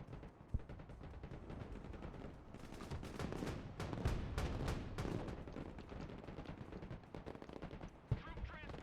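Artillery fire mission in the video game Broken Arrow: a dense, continuous barrage of booming shots and rapid gunfire, loud and overlapping for several seconds with sharper blasts near the start and end.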